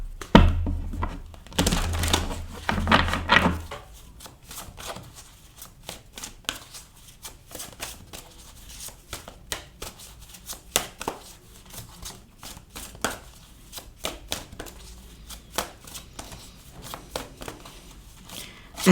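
Tarot cards riffled and shuffled close up in a loud opening burst, then a long run of soft flicks, slaps and taps as cards are handled and drawn, with no talk.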